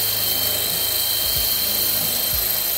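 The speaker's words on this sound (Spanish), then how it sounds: "Ahorita voy a perforar un agujero en el centro para ver si nos topamos con los joys." A power drill bores small pilot holes into a wall during a freestanding bathtub and tub filler installation, a steady high-pitched motor whine running continuously and loud throughout, with no talking.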